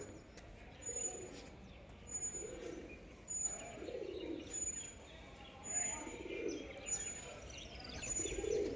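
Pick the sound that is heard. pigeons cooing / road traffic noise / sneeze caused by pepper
pigeons cooing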